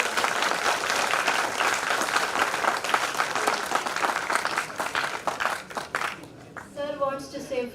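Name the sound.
audience applause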